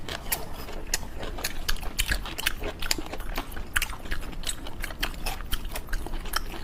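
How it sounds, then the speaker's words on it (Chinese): Fresh raw fish being chewed, the skin firm and chewy and the flesh soft, with a steady run of close, moist bites and crunches and no talking. "皮呢嚼起来梗劲儿的，但是肉呢松软的"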